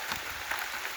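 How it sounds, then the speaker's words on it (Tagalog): Heavy rain pours steadily in a broad, constant hiss near the listener, with no voices over it. "Lakas ang ulan."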